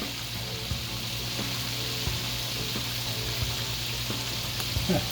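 Honey poured into an already hot pan for bourbon-flavoured fried chicken gives a steady, close sizzle and hiss throughout, with small crackles and a low hum underneath and no voice.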